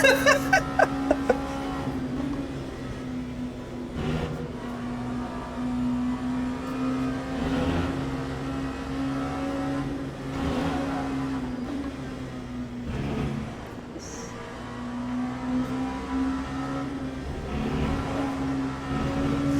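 A P2 prototype race car engine in the Le Mans Ultimate racing simulator hums at a steady pitch with small rises and dips, continuous and fairly loud throughout, with occasional clicks and no talking over it.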